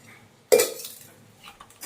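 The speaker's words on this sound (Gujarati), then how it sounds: "હવે બરાબર મિક્સ કરી લઈએ" A metal spoon strikes a pan of whole-onion curry once, a sharp, loud clank, followed by a few fainter scraping stirs up close.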